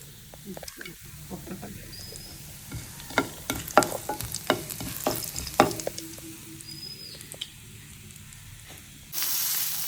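Onions and mustard seeds are stirred in a frying pan, with irregular spatula scrapes and taps over a light sizzle. A brief rush of noise comes at the end. The sound is close and moderately quiet.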